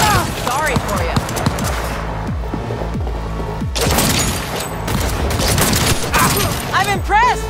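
A Cyberpunk 2077 shootout erupts with loud, close bursts of rapid gunfire and heavy thumping shots, broken by a brief lull before the firing resumes, with voices calling out amid the shooting.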